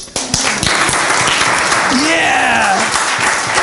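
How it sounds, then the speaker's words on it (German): Audience applause at a Freeman regulars' gathering in St. Marienkirchen, a steady dense clapping from a room crowd that holds for several seconds, with a shout and talking voices over it. "Deutscher Freeman, bitte Applaus."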